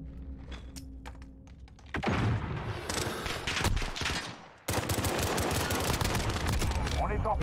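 Rapid bursts of pistol gunfire in a shooting video game, played at keyboard, loud sharp cracks crowding together with clicks, mixed under excited talk.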